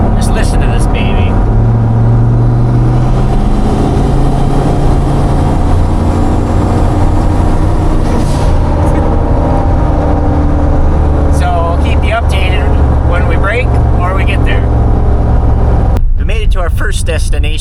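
A turbocharged LS-swapped 2500HD truck with a solid axle swap and automatic transmission drones steadily on the road, loud and continuous with low engine hum and road roar, a voice talking briefly over it.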